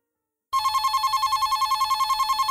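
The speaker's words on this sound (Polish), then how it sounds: "Irytujący sygnał dzwonka w komórce przerwał Jarkowi błogą drzemkę" After a brief silence, a mobile phone ringtone starts abruptly, a bright, rapidly pulsing electronic trill repeating steadily and fairly loud.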